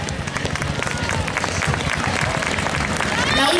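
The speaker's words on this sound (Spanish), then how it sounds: "Un fuerte aplauso para ellos." A crowd at a carnival parade applauds, dense clapping and cheering holding steady and loud throughout, with a hubbub of voices mixed in.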